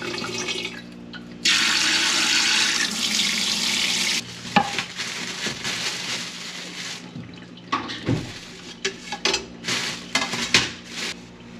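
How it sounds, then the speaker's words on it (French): Running tap water splashes steadily while dishes are washed in a home kitchen sink, with a loud continuous gush followed by intermittent clinks and splashes of handled dishes, no talking. "On va faire la vaisselle."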